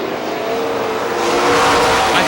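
Race cars roar at Star Speedway in New Hampshire, several engines blending into a loud, sustained, close howl that swells as the pack thunders down the front straightaway.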